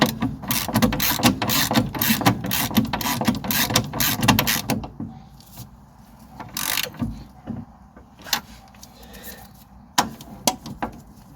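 A nut is wound onto the tapered end of a steering drag link on a Mercedes C-Class, with rapid ratcheting clicks and metallic rubbing at first, then sparse scattered clicks and knocks.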